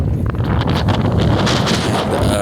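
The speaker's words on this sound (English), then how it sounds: "And the wind is really picking up." A strong outdoor wind roars and buffets the microphone in a constant, heavy rumble with gusty hiss and no pauses.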